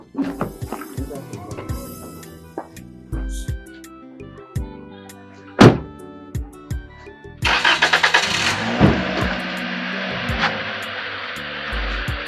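Car engine in a Nollywood drama scene cranks and catches amid background music, then swells into a louder, sustained run as the car drives off.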